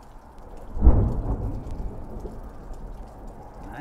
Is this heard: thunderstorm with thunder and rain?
yes